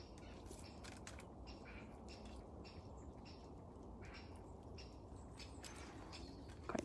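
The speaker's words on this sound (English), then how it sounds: "we've just got a woodpecker chirping right from the top" A woodpecker calls from the top of an ash tree in a woodland, giving a string of sharp, repeated chipping notes that sound distant and faint over steady background hiss.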